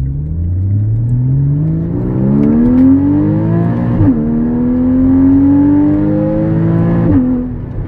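A Porsche Cayman GTS engine revs loudly from inside the moving car, its pitch climbing steadily through the gears, with two distinct drops at gear changes and a continuous throaty drone.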